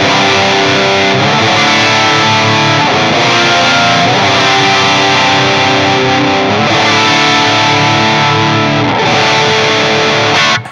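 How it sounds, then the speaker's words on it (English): Overdriven electric guitar through the crunch channel of a Mesa Boogie Mark V amp with a Brent Mason distortion pedal, playing sustained chords and riffs continuously and loudly with a light delay trailing the notes. "Have a listen to the crunch channel of the Mesa Boogie Mark 5."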